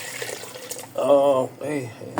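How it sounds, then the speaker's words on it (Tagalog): Two liters of water are poured into a cooking pot for chicken sotanghon soup, a brief splashing rush at the start before a person speaks over the kitchen sounds. "Lagyan natin ngayon ng 2 liters of water."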